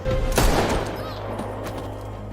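Gunfire in a sniper film: one loud, close shot bursts out near the start and rings off into a low rumbling tail, with faint background sound after it.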